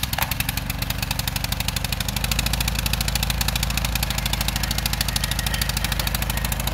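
A garden tiller's small engine runs steadily and loud, a mid-pitched idling chug that steps up slightly in intensity after about two seconds and holds a fast, even putter close to the listener with no talking.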